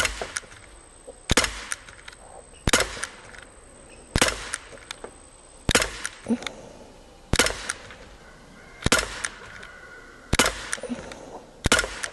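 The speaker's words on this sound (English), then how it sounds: "next I'm gonna try the Black Diamond by Hornady and see how they shoot" A Daisy Powerline 5501 CO2 BB pistol fires Hornady Black Diamond BBs: about eight sharp, loud, close shots at steady intervals of roughly a second and a half, with quiet pauses between and no talking.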